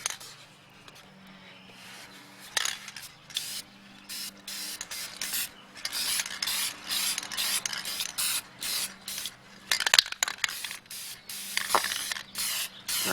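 A fast-drying aerosol spray from Ace Hardware is applied to stamped artwork in several short hissing bursts, close and fairly loud, separated by brief pauses.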